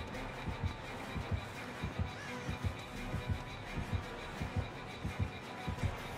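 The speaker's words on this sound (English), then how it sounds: "I hear heartbeats." Heartbeat in the Dead by Daylight horror game signalling a nearby killer: a steady, low, thumping double pulse repeating about once a second throughout, moderately loud over a faint background hum, with no talking.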